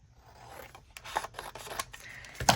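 Scissors snip through a paper ticket for a Christmas journal page, soft close crisp cuts and rustling in a quiet room, a few faint snips building to a sharper clip at the end.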